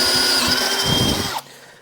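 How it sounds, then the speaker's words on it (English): A power drill whines steadily at high speed, enlarging holes in metal on a 1980 Dodge W200 truck, then cuts off abruptly near the end, leaving faint residual hum. "I gotta drill these a little bit bigger."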